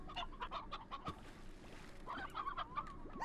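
Chickens in the video game Slime Rancher cluck in short repeated bursts, close and fairly quiet, with soft background game ambience.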